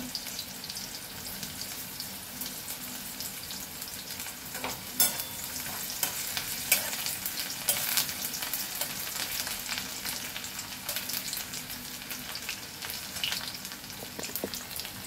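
Chopped garlic with onion frying in a pan for lentil dal with drumstick leaves, a steady low sizzle throughout with occasional sharper stirring scrapes and clicks.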